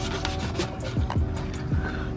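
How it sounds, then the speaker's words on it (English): Sanding on a new side skirt for a Honda Civic Si, a close, steady scratchy rasp that continues through the clip with a few short knocks, no talking over it. "We're just sanding the side skirt first"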